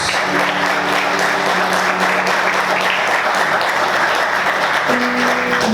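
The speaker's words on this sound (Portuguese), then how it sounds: "Vamos aplaudir Jesus, glória a Deus." A church congregation applauds steadily and loudly throughout, a dense wash of clapping filling the room, with faint sung or spoken tones underneath.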